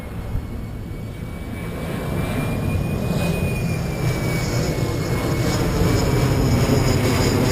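A fixed-wing airplane passes overhead near a cemetery in Key West, a continuous broadband roar that swells slowly and grows louder over several seconds, with no voices.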